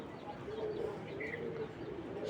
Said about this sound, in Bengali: দর্শক কবুতর দুইটা দেখুন হাতে